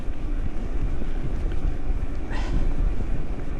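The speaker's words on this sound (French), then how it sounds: "il y a beaucoup de vent" Strong wind buffets the microphone outdoors during a mountain bike ride on a DJI Amflow PL Carbon e-bike, a loud, continuous low rumble with gusts, and no clear speech.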